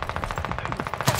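Rapid automatic gunfire from a weapon in Call of Duty Vanguard, a fast even burst of sharp shots close and loud, ending in a slightly heavier cluster, no talking.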